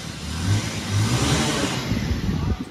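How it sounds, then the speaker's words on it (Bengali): A newly delivered car pulls into a home parking space, its engine humming and revving steadily. A broad, continuous mechanical rumble stays close and loud for a few seconds. "গাড়ি এবারে আমাদের পার্কিংয়ে আসছে"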